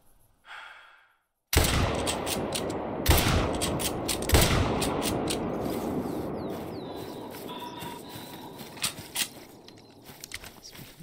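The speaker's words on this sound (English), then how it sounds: "pop a few bullets into them." Rifle shots in TheHunter: Call of the Wild hunting game, a sharp report after a brief quiet, followed by further loud cracks and a long echoing decay with scattered smaller clicks.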